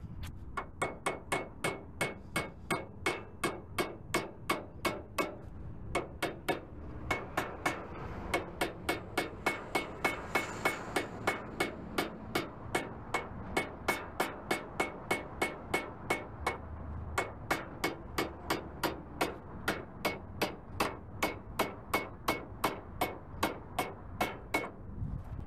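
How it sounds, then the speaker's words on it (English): A hammer strikes in a long, steady series of sharp, ringing blows, evenly paced with only brief pauses, close and clear. "Still think I need them even with my hammer."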